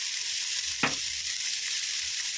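Cumin seeds, about a spoonful, sizzle in hot oil in a gap cleared in the middle of a pan while making ridge gourd chutney. A steady, close frying hiss runs throughout, broken once by a brief stirring knock, with no talking.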